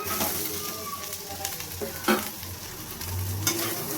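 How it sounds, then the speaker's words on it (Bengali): Banana stem is stir-fried with spice paste in a pan, a close, continuous sizzle broken by scraping stirs and occasional clinks of the utensil. "এবার থোড়টা মশলার সঙ্গে ভালোভাবে কষিয়ে নেব।"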